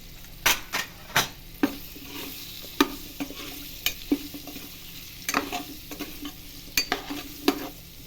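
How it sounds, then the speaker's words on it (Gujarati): Raw mango pieces with turmeric sautéed slowly in a pan, a soft sizzle underneath a series of distinct spatula scrapes and clacks against the pan at irregular intervals, close by and moderately quiet. "હવે સાંતળતા જઈશું ધીમે ધીમે."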